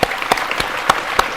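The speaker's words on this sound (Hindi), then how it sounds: "तो सर के लिए बहुत जोर से ताली बजाएंगे आप" An audience at a career guidance session claps in a slow, rhythmic beat, five sharp, evenly spaced claps standing out above a softer spread of hand claps.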